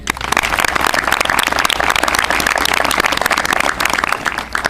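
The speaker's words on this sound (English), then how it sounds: "How about a round of applause?" Dense, steady applause from an audience at a hurricane shelter dedication ceremony, loud and continuous for the whole stretch before fading slightly at the end.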